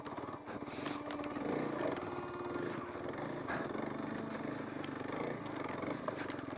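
A Kawasaki KLX 300 dirt bike engine runs steadily off-trail at Walker Valley ORV, a continuous close, rough drone with a slightly fluctuating pitch and no pauses.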